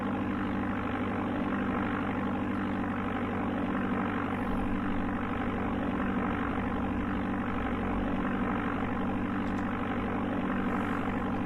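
A propeller airplane engine drones in Amiga Flight Simulator II, a constant loud buzzing hum with steady tonal layers that persists unchanged throughout.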